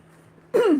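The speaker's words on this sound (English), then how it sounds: "I'm sorry I keep clearing my throat." A single short throat clearing, close and fairly loud, after a moment of near silence.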